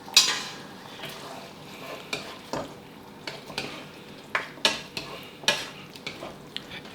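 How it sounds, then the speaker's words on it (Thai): Spaghetti tomato sauce with minced pork and sausage is stirred in a pan over a quiet simmering sizzle, with irregular close scrapes and clinks of a utensil against the metal. "นี่เราผัดต่อยสักครู่เดียวนะครับ ให้ทุกอย่างกลับมาเดือดแล้วก็เข้ากันดีครับ"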